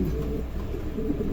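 Low, soft cooing from a Bukhara pigeon, a female kept in a loft among other pigeons, murmuring steadily and close for the whole stretch with no voices over it.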